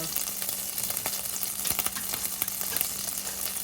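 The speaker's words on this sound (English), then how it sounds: "Then we're going to get our onions in there" Small chopped onion sizzling and frying in a pan for chicken tikka masala, a steady crackling hiss with a few sharp pops and faint stirring scrapes throughout, with no talk over it.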